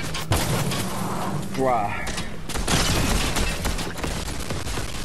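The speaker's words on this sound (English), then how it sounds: "I do hear shots" Gunfire in a video game crackles in bursts, with a sharp shot near the start and further rapid reports amid game noise, while a player shouts excitedly over it.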